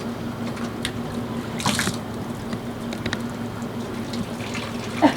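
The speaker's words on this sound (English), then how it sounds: "Just reach down there and grab some water." Hand scooping water during a whale-watching outing, a few soft splashes and trickles against a steady watery wash, fairly close and with no talking.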